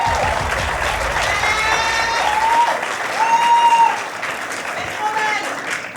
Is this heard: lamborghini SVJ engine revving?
no